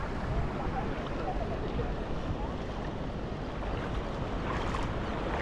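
Flowing water near Doddametrai Shiva temple, a dense, steady rushing wash of noise with no breaks, heard close and fairly loud, with wind buffeting the microphone.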